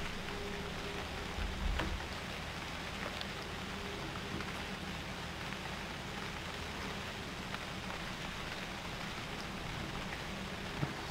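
Steady rainfall in the survival game UnReal World, a soft continuous wash of rain noise with no voices.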